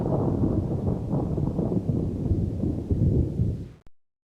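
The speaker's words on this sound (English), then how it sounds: "The earth trembled, and there was a terrible storm." Heavy rumbling storm noise, dense and steady like thunder with wind, rolling continuously before cutting off abruptly at the end.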